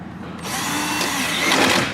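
A power drill runs steadily for about two seconds, driving a 10 mm bolt with a washer into an obstructed spot on a Ford F-series door during a window regulator motor replacement, its pitch rising slightly near the end.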